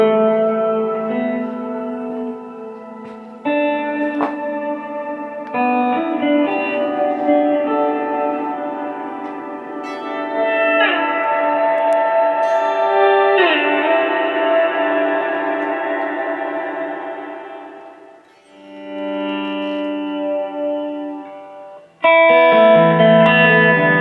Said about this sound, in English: I am using the expression pedal to basically bring in the shimmer effect and also increase the reverb